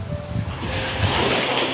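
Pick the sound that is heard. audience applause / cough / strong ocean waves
strong ocean waves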